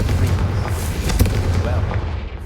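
A Bombarda spell from Hogwarts Legacy goes off as a deep, rumbling blast that rolls on steadily for a couple of seconds, with a voice faintly mixed in.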